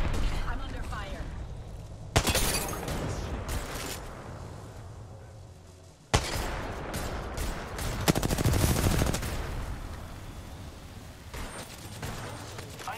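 Gunfire from the Apex Legends video game, with rapid bursts and sharp single shots cracking in bursts over continuous game noise, loud and close, with a voice speaking at times.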